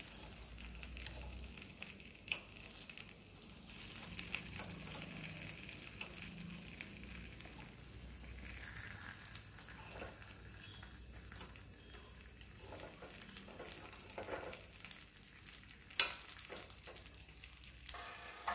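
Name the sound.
breakfast pieces frying in a pan after flipping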